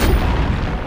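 A Flipendo spell cast in the game Hogwarts Legacy, a short, loud, thumping boom with a brief sharp onset and a rumbling low body, heard alone.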